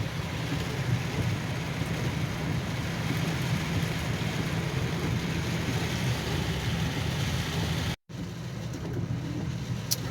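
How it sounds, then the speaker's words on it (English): Heavy rain pours during an Oklahoma storm with flooding nearby, a dense, steady roaring hiss that stays loud throughout, broken by a brief cut near the end. "the rain has lightened up quite a bit, but look at all this water rushing through the parking lot here."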